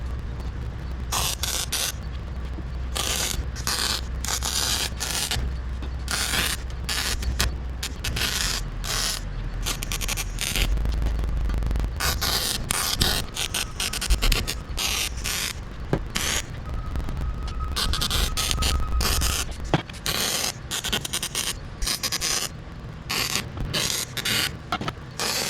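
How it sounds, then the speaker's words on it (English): Weld beads go down on a custom 2-into-1 motorcycle exhaust made from bent steel tubing, with a continuous close crackle and sizzle broken by short pauses between beads. "So I'm going to go ahead and throw down some beads."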